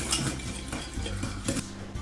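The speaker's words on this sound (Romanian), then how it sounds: "Prima dată o să pun gălbenușurile, zahărul și o să frec foarte bine până să face o cremă." Egg yolks and sugar whisked into a cream in a bowl make quick, rhythmic metallic scraping and clinking. The sound is close and continuous, with no talking.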